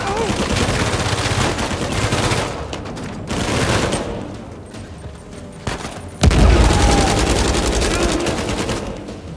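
Rapid bursts of automatic gunfire and loud booming shots from the Uncharted 4 video game, in sustained volleys broken by short lulls, with one heavy blast partway through.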